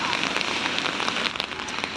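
Steady rain patters and hisses on a street in Florence, a dense, close wash of droplets with scattered sharper taps and no talking.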